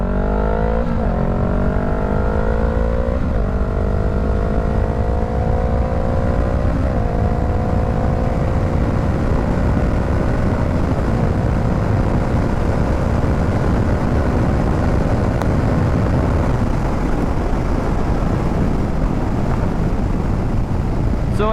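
A 2019 Honda CBR500R motorcycle fitted with a Coffman's exhaust revs loudly up close, its pitch stepping upward through several rising surges before it settles into a sustained high, raspy drone.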